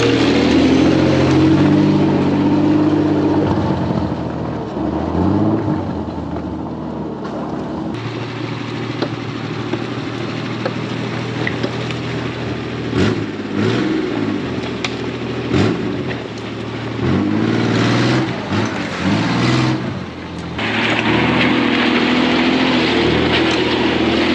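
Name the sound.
Gaz 69 off-road vehicle with V6 engine driving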